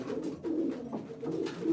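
Pigeons coo softly and repeatedly inside a loft on a snowy night, the low throaty calls overlapping in a steady murmur at close range with no talking.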